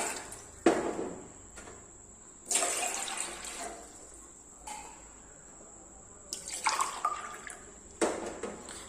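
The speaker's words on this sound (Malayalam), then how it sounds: "ചരുവത്തിലേക്ക് നമുക്കൊരു മൂന്ന് കപ്പ് വെള്ളം ഒന്ന് ഒഴിച്ചു കൊടുക്കാം" Three cups of water are poured one after another into a metal cooking vessel, arriving as several separate splashing bursts with quiet gaps between them, close and moderately loud.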